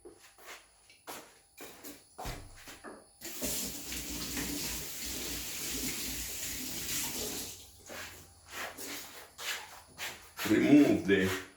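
Banana stems being washed under a running tap, with a steady rush of water over several seconds and wet handling sounds, framed by short clatters and bumps and a louder splash near the end.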